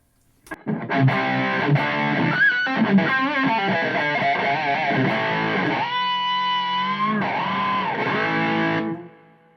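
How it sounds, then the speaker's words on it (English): Electric guitar run through a Boss GT100 multi-effects unit with distortion engaged, a string of sustained, heavily saturated notes and bends played alone, ending on a long held tone that cuts off. "I'll throw my distortion on."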